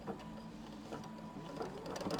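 A sewing machine runs continuously, stitching quilt fabric pieces for an embroidered square-in-a-square block, a soft, even mechanical hum held at a fairly low level for the whole stretch.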